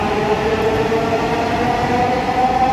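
A Dhaka metro rail train speeds past in a loud continuous rumble with a steady whining tone over it, sustained throughout and heard close by.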